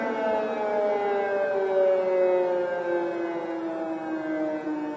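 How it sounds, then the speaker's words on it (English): A wailing air raid siren in Ukraine during the war drones steadily, its pitch slowly gliding, loud and continuous with no voices. "Aerial threat, sirens, take cover now is the issued message."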